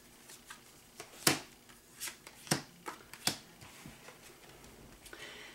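Tarot cards being shuffled by hand: a run of crisp riffling bursts and soft slaps, about six distinct strokes at irregular spacing, close up with no speech.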